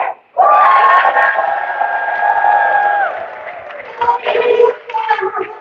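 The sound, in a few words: assembly audience cheering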